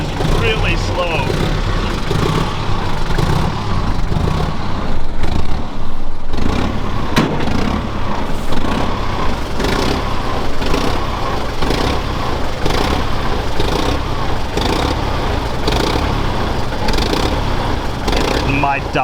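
Red Unimog truck engine crawling along in a very slow gear, a loud, steady, low rumble that runs throughout with slight pulsing, while people talk over it.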